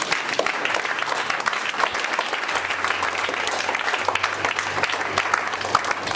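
Congregation clapping and cheering in a church service, a dense, steady wash of applause from many hands filling the room, with a low sustained tone underneath.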